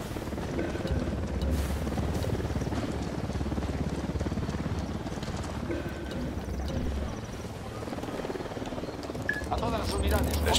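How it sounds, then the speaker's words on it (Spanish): A helicopter's rapid rotor chop pulses steadily in the video game Ghost Recon Wildlands, with talk and scattered effects over it. "Se acerca un helicóptero al suelo."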